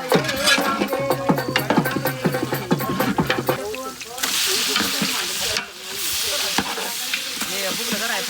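Onion frying and being stirred in a pan for mutton curry, a steady loud sizzle with scraping stirs, as a voice talks over the cooking.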